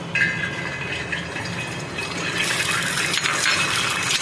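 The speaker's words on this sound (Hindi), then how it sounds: "अब ये इस अंडे को हम डालेंगे।" Egg poured into hot oil in a pan, a loud close sizzle and bubbling hiss that swells and stays steady.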